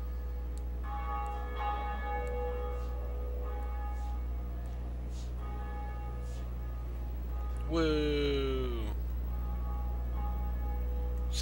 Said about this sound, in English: Such a loud bell. You can hear it all over the place.